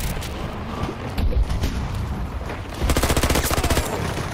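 Rapid automatic gunfire bursts from a P90 in the video game Battlefield 2042, loud and close, with a short burst early on and a longer rattling string of shots near the end.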